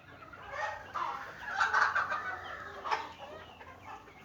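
A flock of about a hundred Thai village chickens clucks on a farm, with overlapping, irregular calls rising and falling at close to mid range and no talk.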